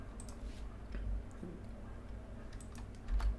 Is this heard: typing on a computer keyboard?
yes